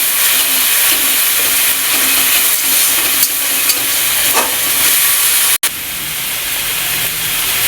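Chela fish curry hisses and sizzles steadily in a pan while being stirred, a loud continuous frying noise close by, with a brief cut partway and no voices.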